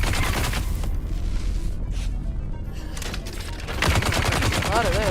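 Sustained gunfire from a Dune: Awakening shootout, dense and continuous throughout, with a short lull before it swells again near the end; game effects are mixed in.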